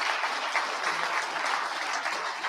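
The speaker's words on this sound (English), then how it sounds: "let's give a big round of applause to this panel" Conference audience at the National Press Club giving a panel a round of applause, steady continuous clapping from many hands, moderately faint and slightly distant, without talk.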